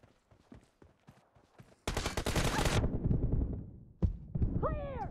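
Rapid gunfire bursts from the video game Free Fire, loud and dense for about a second, then a single later shot followed by game effect sounds.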